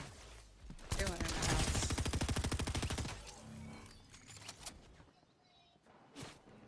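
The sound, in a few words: DMR rifle gunfire in Fortnite video game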